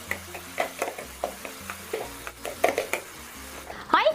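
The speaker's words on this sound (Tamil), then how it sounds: "நெய்யில் ஒரு 2-3 நிமிஷம் நல்லா பெரட்டி விடுங்க இந்த மட்டனை" Mutton in ghee, just coated with a masala and yogurt paste, being stirred in a pan: repeated scraping strokes over a soft frying sizzle, close and moderately loud, with a brief louder clatter at the end.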